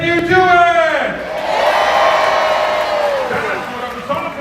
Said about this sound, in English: We want you to cheer and applaud to let him know you are ready for action.